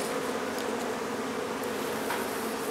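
Honey bees buzz steadily during removal of a hive from a barn, a dense continuous drone of many insects close by, with a few louder passes near the microphone.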